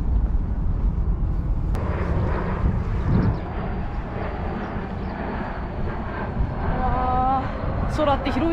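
A steady engine roar fills the background throughout, like an airplane passing overhead, while a person talks over it.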